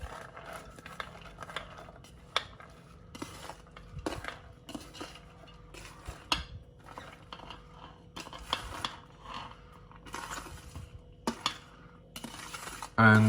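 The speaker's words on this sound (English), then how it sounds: "slowly then turn the whole lot over, around and around and around, until it's all well coated" Prawns and vegetables are turned over and over in a pan, producing quiet, irregular clinks and scrapes of a utensil against metal with soft sizzling in between and no talking.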